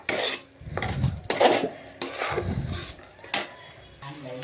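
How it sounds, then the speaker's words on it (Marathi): Potatoes for dum aloo being sautéed in oil in a pan, heard as intermittent scraping and clinking of a spoon against metal in short uneven strokes, fairly close and moderately quiet. "तर आता हे आपण चांगलं परतून घेतलं आहे"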